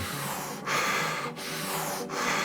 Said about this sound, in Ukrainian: Повний вдих, повний видих.